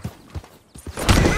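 Horse hooves from Red Dead Redemption 2 clop in a few close, uneven beats, then a louder scuffling thud as a rider falls from the horse.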